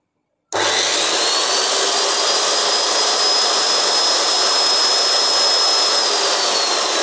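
A Hasston 3085-001 cut-off saw switches on abruptly and runs without load, a loud steady high-pitched motor whine holding unchanged at close range.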